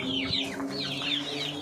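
Hungry hens and small chicks on a backyard poultry farm cluck and peep continuously at close range, with high chick cheeps layered over lower hen clucks and no voices.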